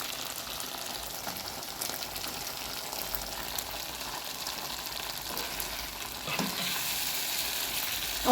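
Cow liver frying in a pan crackles in a steady, moderate sizzle, with occasional stirring scrapes and a slight swell in the spatter toward the end, heard alone without talk.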